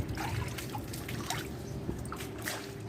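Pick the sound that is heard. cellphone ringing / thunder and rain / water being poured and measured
water being poured and measured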